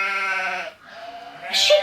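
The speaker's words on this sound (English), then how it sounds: "A sheep." A sheep bleats twice, close and loud, with a long wavering call followed by a shorter one, heard alone without talk.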